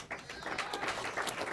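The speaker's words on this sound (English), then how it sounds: "But let's go ahead and keep cheering, my friend" Audience applause at an amateur film festival award show, a steady wash of many hands clapping at moderate distance, continuing throughout with no speech over it.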